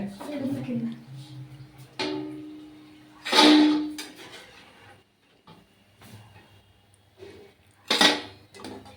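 Metal bowls and pans clank and clatter in a few sharp bursts while crisp jantikalu snacks are fried and lifted onto a plate, with quieter kitchen handling sounds and faint voices in between.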